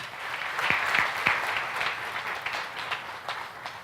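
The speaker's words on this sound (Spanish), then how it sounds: "Dale un aplauso a Dios." A church congregation applauding during a sermon, a continuous, even wash of many hands clapping at moderate volume, heard at some distance for several seconds.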